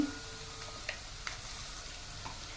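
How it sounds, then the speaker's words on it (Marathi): Ground spice paste for Konkani-style black pea curry fries in a pan, a faint, low sizzle with a couple of soft spoon taps while it is stirred, quiet and without talking. "आता हे वाटण चांगलं परतून घ्यायचं"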